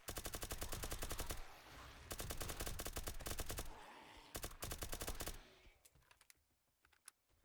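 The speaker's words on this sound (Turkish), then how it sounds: "topuklana topuklana sıkıyorum." Automatic rifle fire in bursts from the zombie survival video game 7 Days To Die, dense rapid rattling runs of shots, three loud bursts over about five seconds, then near silence with a few faint clicks.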